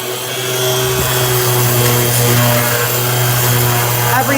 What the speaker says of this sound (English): I'm going to use my big sander